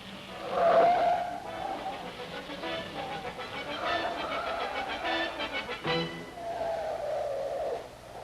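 A race car spinning during 1961 Indianapolis 500 qualifying, engine roaring and rising in pitch as it slides, then recovering and pulling away, heard through old, narrow archival sound with a faint hum.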